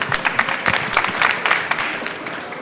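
Audience applause at a startup pitch demo day in Seoul: a dense, steady burst of many hands clapping, fairly loud, running the whole stretch with a slight fade at the end.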